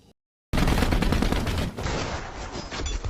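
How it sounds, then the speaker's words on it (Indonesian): Mortar fire in a war film about elite Russian troops, a loud, dense barrage of rapid blasts that starts abruptly after a short silence and keeps pounding without a break. "tembakan mortar diarahkan ke lokasi"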